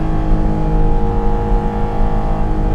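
A 2023 Porsche 718 Cayman GT4 RS with a PDK gearbox pulls hard in 2nd gear on a twisty road, its engine note a steady, loud drone heard close from inside the cabin.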